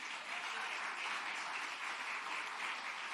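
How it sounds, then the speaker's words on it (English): Dense, even applause fills a hall at a Malcolm X commemoration, many hands clapping at once in a continuous crowd roar that holds steady without letting up. "Another round of applause for our dear beloved brother"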